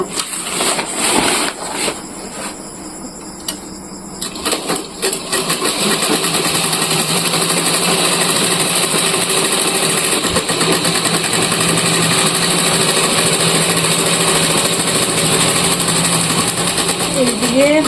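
A sewing machine runs continuously, stitching a bag made from a cement sack. Its steady mechanical whir starts unevenly, then settles into a loud, sustained hum that lasts to the end.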